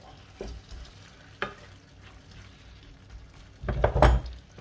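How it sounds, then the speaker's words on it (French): Ratatouille vegetables stirred in a pot: a few soft scrapes and knocks of the spoon, then a louder burst of stirring and clatter near the end, close and with no voices. "On mélange bien"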